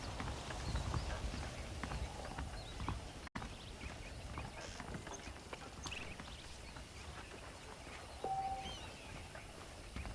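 Horse hooves clip-clop in Red Dead Redemption, a steady run of repeated hoof steps across the whole stretch over low in-game ambience, with no talking.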